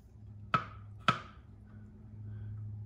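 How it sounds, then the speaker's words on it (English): A knife chops olives on a cutting board for New Orleans olive salad: two sharp, close knocks about half a second apart, then a quiet pause. "chopping these olives"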